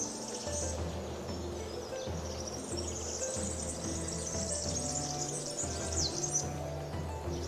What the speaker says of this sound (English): the birds are loud here.